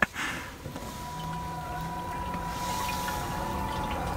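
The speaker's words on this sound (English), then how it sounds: "You can hear the water under the hood." Water sloshing and gurgling around the engine bay of a Vaterra Ascender RC Chevy K5 Blazer while it wades through a muddy channel, with a low, steady liquid churn and a faint motor whine underneath.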